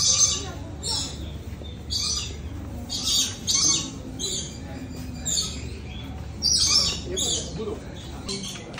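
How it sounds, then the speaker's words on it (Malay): Birds at a butterfly and reptile park in Melaka give repeated sharp, high chirping squawks in irregular bursts, fairly close, over a low background murmur. "Burung."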